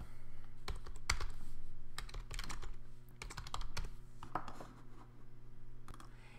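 Someone types an email address and password on a computer keyboard, producing irregular bursts of close, crisp key clicks separated by short pauses, with no talking.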